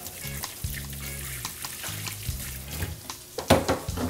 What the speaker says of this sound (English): Let me wash my hand really quick.